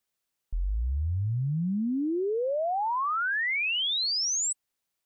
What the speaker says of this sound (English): it's a sinuous tone that starts at one frequency and sweeps through all frequencies to an end frequency